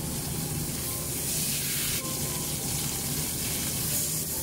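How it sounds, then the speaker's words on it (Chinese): Marinated steak sears in a hot pan sprayed with oil, giving a loud, continuous sizzle and hiss with small spits and crackles throughout. "把锅加热，喷上一层油，放入腌制好的牛排。"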